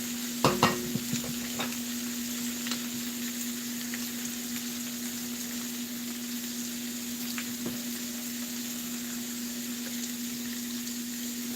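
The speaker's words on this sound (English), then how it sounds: "I'm sauteing my onions a little bit" Onions sautéing in a pan throw off a steady, close sizzle with a constant background hum. A few faint clinks come early, and no one speaks.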